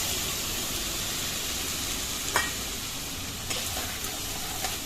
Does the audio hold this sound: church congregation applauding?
no